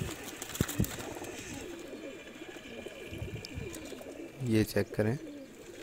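Teddy breed pigeons coo among a loud chorus of birds in a pigeon loft setup, with repeated nearby coos standing out near the end while someone speaks over them.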